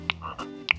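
A frog's croak imitated by pressing a thumb into the centre of a metal jar lid: two short, sharp clicking pops about half a second apart, joined by a softer hum, heard close and alone.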